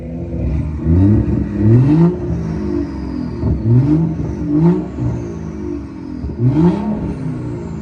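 A BMW M235i or M240i engine in sport mode revving repeatedly to about 3,500 rpm, with rising and falling blips in a rhythmic pattern, loud and close with no talk.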